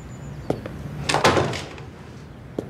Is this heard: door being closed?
yes